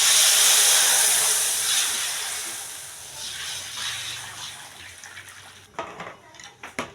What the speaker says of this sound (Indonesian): Kita siap tuang untuk gula merah. Gula merahnya kita tuang.